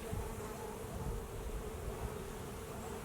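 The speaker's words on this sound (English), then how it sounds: "Nice group of bees up here on this honey super" Dense, steady buzzing of many honeybees close by on a hive's honey super, a continuous drone without pauses.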